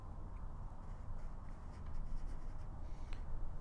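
Pencil scratching a bevel line onto a dragon blood stone cabochon, close, steady gritty scraping strokes running continuously with slight pauses and no talk.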